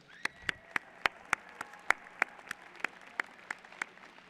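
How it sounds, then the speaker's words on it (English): At a graduation ceremony, a single nearby pair of hands claps in a steady, evenly spaced rhythm, each clap sharp and distinct, while a faint wider applause lingers in the background. "can we give a huge round of applause to the parents here tonight or today?"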